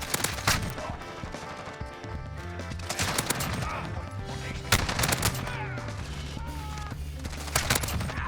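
Repeated rapid bursts of AK74u submachine gun fire in a video game, sharp and loud, spread across the clip over a constant backdrop of game sound.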